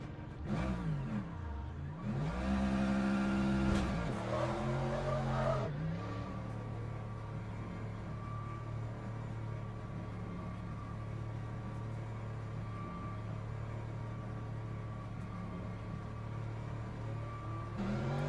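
Race car engines, including a Porsche, roar in a racing video game, with a loud rising and falling rev burst early on, then a steady droning engine whine for the rest.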